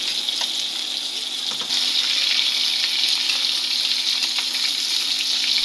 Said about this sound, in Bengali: আম্মু এদিকে মাছগুলো ভেজে নিচ্ছে